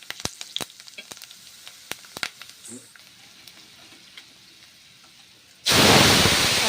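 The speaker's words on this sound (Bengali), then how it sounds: "বাঁধাকপিগুলো গরম তেলে ছেড়ে দিচ্ছি" Cabbage dropped into hot oil erupts into a loud, dense frying sizzle near the end, after a stretch of quieter clinks and light kitchen sounds.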